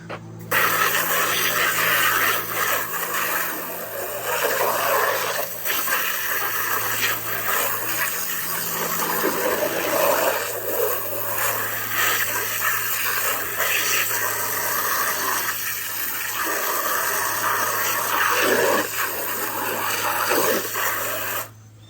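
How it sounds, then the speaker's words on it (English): A garden hose sprays water onto dirty car floor mats in a steady, loud, continuous hiss that runs unbroken for about twenty seconds with slight shifts in tone, no talking. "let's take the hose to it and see how it goes"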